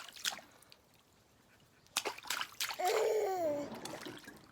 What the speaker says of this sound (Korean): 물 튀겨 튀겨 튀겨 튀겨 튀겨 물 튀겨